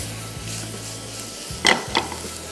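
Garlic fries in hot oil with a low, steady sizzle under a faint background hum, broken by two sharp utensil clinks against the pan near the end.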